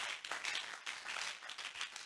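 A church congregation applauding, a dense, steady wash of many hands clapping together, heard at moderate distance with no pause.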